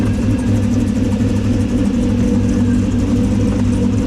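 A supercharged LS3-powered Lincoln engine runs at a steady, loud, close-up rumble with a deep low drone that holds throughout, with no clear revving.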